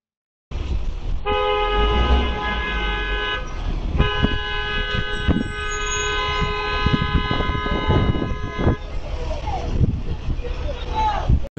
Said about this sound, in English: Who honks at a funeral procession?